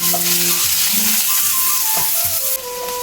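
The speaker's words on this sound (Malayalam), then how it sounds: "ഒരു രണ്ട് മുളകൊക്കെ നമുക്ക് ഇട്ട് കൊടുക്കാം അതൊന്ന് മൂത്ത് വരുമ്പോൾ നമുക്ക് കുറച്ച് സവോള ഇട്ട് കൊടുത്ത് നല്ലപോലെ വഴക്കിയെടുക്കാം" Onions and chilies sauté in hot oil in a pan, giving a steady, close, loud sizzle with faint tonal clinks over it and no voices.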